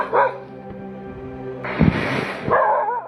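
A dog barks and whimpers at night in the woods in Paraguay, a few sharp yips near the start and a louder burst of barking midway, close and fairly loud over a quiet background.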